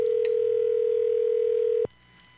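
A steady, loud telephone dial tone hums for nearly two seconds, then cuts off abruptly, leaving faint room noise and a couple of small clicks.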